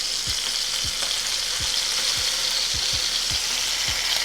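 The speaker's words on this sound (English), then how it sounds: "I'm going to go ahead and lay in the short ribs, press them down to make sure they're making maximum surface area contact with that skillet" Beef short ribs searing in a hot skillet, a loud, continuous close sizzle with regular dull thumps as the meat is pressed down, about eight in a row, with no talking.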